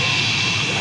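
Steady roar of jet aircraft engines at Zurich airport, a loud continuous broadband rumble close by, heard alone with no talking.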